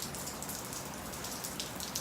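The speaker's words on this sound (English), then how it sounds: "it's been raining" Steady rain from the remnants of a hurricane falls in a desert area, a dense, soft patter of drops on surfaces that continues without a break.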